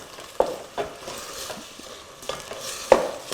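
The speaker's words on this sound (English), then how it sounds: "sort of like frying the meat a little bit" Meat fries and browns in a pot for jollof rice, giving a soft, steady sizzle broken by a few sharp scrapes and clacks as it is stirred close by.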